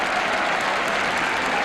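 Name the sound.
football crowd applauding Leicester City players after victory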